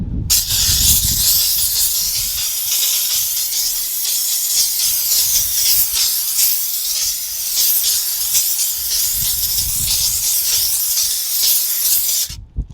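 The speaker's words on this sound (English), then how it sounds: "we've got a nice pressure there with the steam" Dupray steam cleaner blasting pressurized steam onto a floor, a steady loud close hiss that runs almost continuously, with slight fluctuations and faint low rumbles underneath.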